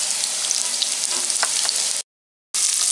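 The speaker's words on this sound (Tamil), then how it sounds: "சாசேஜை சேர்த்து அது கொஞ்சம் பொன்னிறமாக மாறுற வரைக்கும் வதக்கிக்கலாம்" Sausage sizzles in a hot pan with a constant crackling hiss, broken by a brief half-second of silence near the end.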